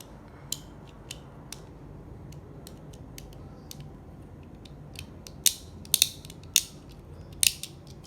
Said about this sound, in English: The driver is really tight because see, I am using same driver on this Beyblade.